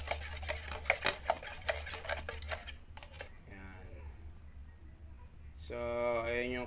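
A chameleon red paint mix being stirred for a scooter body panel, quick ticking and scraping strokes for a few seconds, then a voice talks over the quieter tail.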